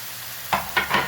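Chopped garlic hits a pan while cooking pav bhaji, giving three short, close bursts of sizzling and stirring after a brief quiet start.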